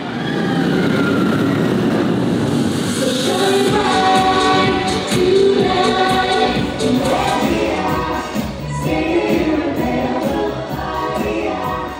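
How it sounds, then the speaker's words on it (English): A dark, high-speed roller coaster with fire effects makes a loud, continuous roaring rush, with shifting tonal whines and surges as the ride speeds along. "it's a cool, like, dark, high-speed roller coaster with fire effects and things like that."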